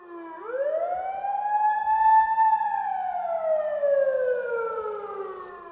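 A loud blasting warning siren wails continuously inside the Inje-Yangyang tunnel construction site, rising in pitch then slowly sliding down, echoing as if in an enclosed underground space.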